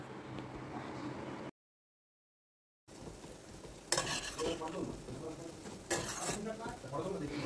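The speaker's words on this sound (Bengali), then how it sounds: "এখন সমস্ত কিছুকে আবারও ভালো করে একটু কষে নেব।" Ginger garlic paste with turmeric, coriander, cumin and chili powders frying in a pan for an egg curry, a steady sizzle with stirring scrapes, broken by a short silent gap, while someone talks over it.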